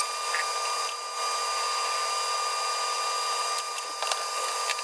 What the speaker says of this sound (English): So I gotta face the back of this piece off since I forgot to do so earlier.